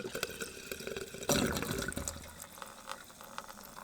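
Fuel poured from a pump nozzle into a jerry can aboard a sailing boat, a steady close liquid gush and gurgle that swells briefly then settles, with no talk.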